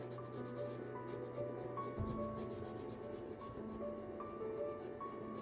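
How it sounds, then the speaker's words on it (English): A rub-on transfer being burnished onto a paper journal page, a steady soft scraping rub that continues close and fairly even throughout, with faint tonal background sounds underneath and no talking. "Maybe I'm rubbing a little too much."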